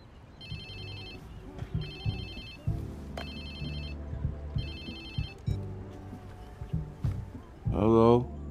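Phone ringing in the video game Watch Dogs 2: repeated electronic ring bursts in a steady pattern over game music and background sound, with a voice speaking near the end.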